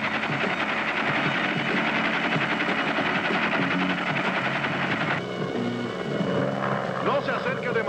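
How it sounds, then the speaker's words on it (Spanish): A helicopter's steady rotor drone hangs in the background throughout, with people talking over it at a moderate distance. "Me parece que ahí se ve un helicóptero."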